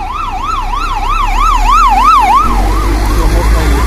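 An ambulance siren wails in a steady rising-and-falling pattern as it passes along a street in Kharkiv, loud and close at first, then fading slightly as it moves on over a low rumble of road traffic.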